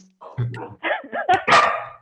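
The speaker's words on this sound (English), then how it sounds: "my dog just barked." A pet dog barks indoors in a few short, close yelps and whines, mixed with a voice speaking over them.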